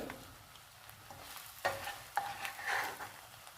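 Boiled egg pieces fry in oil with a soft, faint sizzle, punctuated by a few sharper clinks and scrapes of stirring partway through, heard alone without speech.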